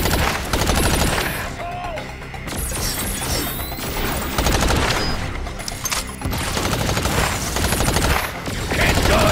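Gunfire in the video game Agents of Mayhem rattles in loud, rapid automatic bursts with mechanical clanks, almost continuous across the stretch and briefly dipping between volleys.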